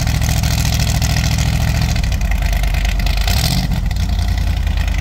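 An Argo Centaur off-road vehicle engine in deep mountain snow runs loud and steady, then drops briefly before surging again, droning close by with no talking.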